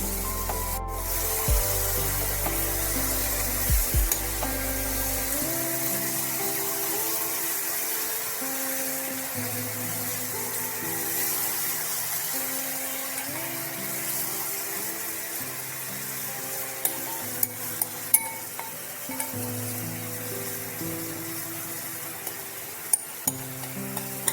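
Mixture poured over pan-roasted sweet potatoes (rangalu) sizzles and stirs steadily in the pan, a continuous close frying hiss with faint scraping, alone without talk.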